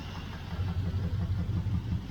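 A 1968 Chevelle Nomad V8 idles close by with a steady low rumble that pulses unevenly, hinting at an intermittent misfire, with no talking over it.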